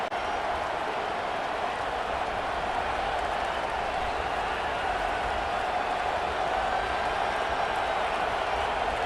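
A stadium crowd in an American football video game, the Georgia home crowd, keeps up a dense, steady roar of cheering throughout with no break.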